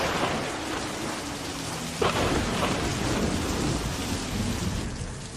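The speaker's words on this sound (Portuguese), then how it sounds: "ele foi apanhado por uma tempestade violenta" A violent thunderstorm pours heavy rain in a dense, steady hiss, with a sharp nearby thunder crack breaking in partway through and rumbling on beneath the downpour; no voices.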